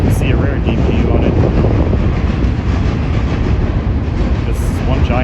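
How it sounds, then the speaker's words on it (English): A long Union Pacific intermodal double-stack freight train rolls past close by at Tower 55, a loud continuous rumble with clattering wheels and some wind buffeting on the microphone. "This is one giant train."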